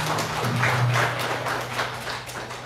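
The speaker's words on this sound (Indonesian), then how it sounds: "Tepuk tangan." Children clap together in a Qur'an learning class, a brief burst of rhythmic hand claps in a room, with a low voice sounding underneath at the start.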